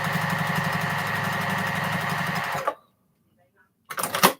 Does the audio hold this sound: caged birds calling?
no